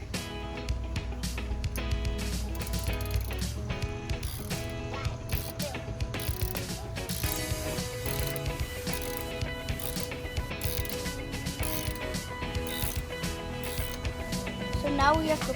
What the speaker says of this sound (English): So these are the bolts we're undoing.